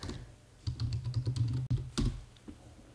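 Keys clatter on a computer keyboard in a quick run of close, crisp taps, followed by a couple of separate keystrokes after a brief pause.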